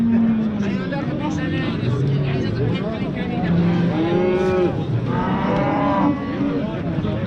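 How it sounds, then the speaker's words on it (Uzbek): Cattle at a livestock market in Beshariq low repeatedly amid a busy crowd, with several moos rising over steady background chatter and people talking nearby. "Bozorda mol ko'p."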